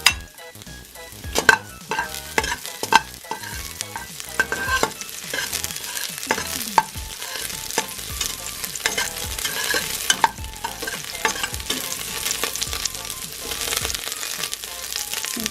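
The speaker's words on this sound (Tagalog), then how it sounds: "Ilagay na po natin yung ating bawang. Gigisa lang po natin." Garlic sautéing in hot oil for beef mami, a steady close sizzle with sharp clinks and scrapes from stirring scattered throughout.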